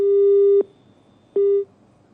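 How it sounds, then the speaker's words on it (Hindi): After a call is hung up, a telephone busy signal sounds twice: two loud, steady tones about a second apart, each cut off sharply, with quiet in between and no speech. "कलेक्टर ने समस्या सुनते ही फोन काट दिया है।"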